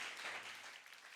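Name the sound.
congregation clapping in church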